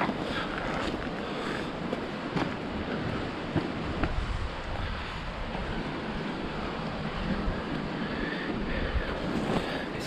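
Steady wind roars and buffets the microphone without a break, with a low rumble beneath, on a steep stretch of the Exmoor coast at low tide.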